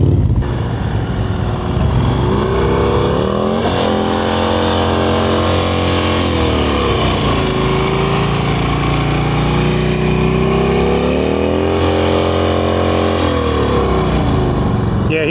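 A motorcycle engine held at high revs during slow-speed riding practice drones loudly and steadily throughout, with pitch rising and falling as the throttle eases and opens again.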